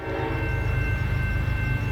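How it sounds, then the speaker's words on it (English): CSX locomotives 1776 and 3194 rumble steadily at night with a sustained horn-like tone over them, the heavy low roar of a train moving at a distance. "the train rounds the curve to speed off into the night for the final time"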